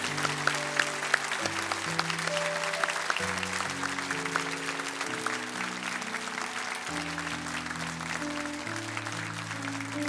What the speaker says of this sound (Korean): 우리 다시 한 번 더 큰 박수로 축복하면서 격려를 보내드립니다.